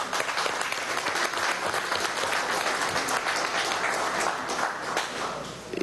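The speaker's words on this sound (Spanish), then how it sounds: "Aplauso." Sustained applause from a large audience at an Alba-TCP summit in Caracas, dense steady clapping filling the whole stretch at a loud, even level.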